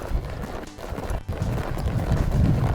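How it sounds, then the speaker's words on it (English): A horse loping in circles in a derby show arena, its hoofbeats thudding in a steady, relaxed rhythm against a noisy background. "we'll just lope off and make sure our horse can lope off and be quiet"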